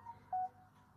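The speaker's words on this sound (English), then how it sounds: "That was my phone." A mobile phone sounds a short notification, a brief pair of electronic tones, the second longer and louder, over a quiet room hum.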